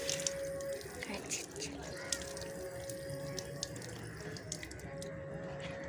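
Tap water running steadily over a transparent plastic mobile phone cover as it is soaked before cleaning, a continuous close splashing wash with a faint steady hum underneath.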